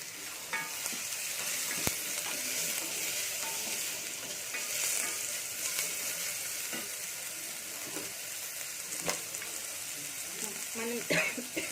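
Onion pieces frying in a pan with very little oil for a cracked-wheat chicken pulao, giving a steady crackling sizzle broken by sharp clicks and scrapes of a spoon, near and moderately quiet.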